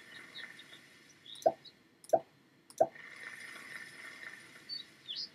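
Three short watering plops in the farming video game Farmville 2, evenly spaced about a second apart over soft game background music with light chimes.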